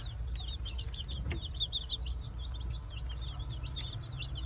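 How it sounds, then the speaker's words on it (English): Newly housed chicks peeping in a stream of short, high chirps that repeat rapidly throughout, close by, over a low steady hum, with no voices. "Another batch of chicks all tucked into their home."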